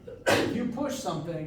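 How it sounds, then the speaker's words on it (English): A single sharp sneeze bursts out in a lecture hall during a physics class, quickly followed by the lecturer talking. "Bless you to whoever sneezed."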